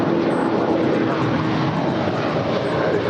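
El Al airliner departing Los Angeles airport for Tel Aviv, a loud, continuous jet roar close by, steady for a few seconds with no talk.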